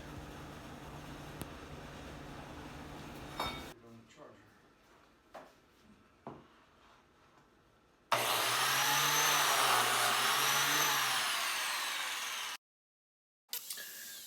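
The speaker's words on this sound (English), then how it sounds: "here's Nathan using the biscuit cutter" A biscuit joiner cuts slots into a wooden board for shelving, a loud steady motor whine lasting several seconds before cutting off abruptly, preceded by quieter handling knocks and shop noise.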